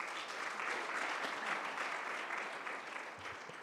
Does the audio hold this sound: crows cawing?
no